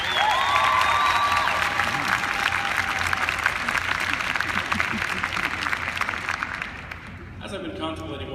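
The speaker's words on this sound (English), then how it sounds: "Graduates, give your family and friends a round of applause." Sustained applause with some cheering from a graduation audience, a dense crowd wash that stays loud for about seven seconds, then fades as a voice begins talking.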